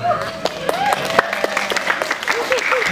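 Audience clapping at a Maulid Nabi religious gathering in Pasanggrahan, with scattered claps under continuous talk and tonal voices.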